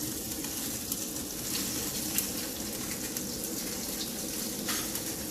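A fish sears skin-side down in an oiled pan with a steady, close sizzle and crackle that holds even throughout, with small spits of oil popping now and then.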